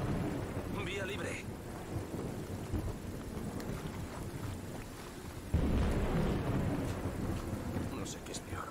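Steady rain and rumbling thunder in Modern Warfare 2 Remastered, a broad wash of downpour with wind noise on the mic, a heavier surge of storm about halfway through, and faint voices underneath.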